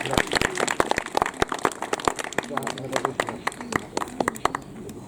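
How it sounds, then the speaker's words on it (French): Scattered spectators at an outdoor falconry display clap for a young gyrfalcon, with sharp, sparse, uneven handclaps spread through the moment while an announcer keeps talking over them. "on peut l'applaudir, notre jeune faucon gerfaun."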